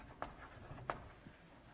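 Chalk or marker strokes on a board during a mathematics lecture make two short, faint scratchy taps in a quiet room, with no talking.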